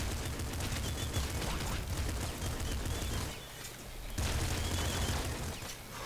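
Auto shotgun fire in Nuclear Throne, a steady run of dense, repeated gun blasts at moderate level that briefly dips in the middle before resuming.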